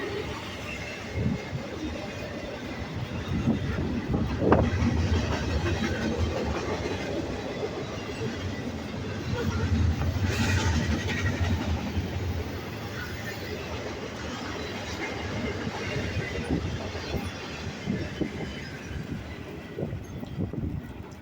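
A Norfolk Southern intermodal freight train rolls past steadily in central Virginia, a continuous rumble of wheels and rail cars with occasional clicks and clanks, moderately close and sustained throughout.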